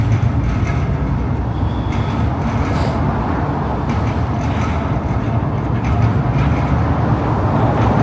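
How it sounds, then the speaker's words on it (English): A Toronto subway Line 2 train passes as a steady, continuous low rumble and roar heard from a street walk along Bloor West, with no distinct peak. "Oh, I hear a Line 2 train."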